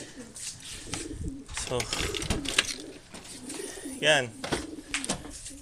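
Racing pigeons cooing during road training, several soft throaty coos near and far mixed with rustling, while people talk nearby.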